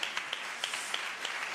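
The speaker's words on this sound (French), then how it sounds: "je propose juste qu'on applaudisse la Cité de la Réussite." Applause from a conference audience honoring the Cité de la Réussite, a steady wash of many hands clapping with scattered sharper claps standing out, moderately distant and even throughout.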